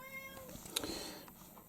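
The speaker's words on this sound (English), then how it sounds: "This is my cat, by the way, in the background." A cat meows once, briefly and fairly faintly, in the background of an indoor room, with no talking.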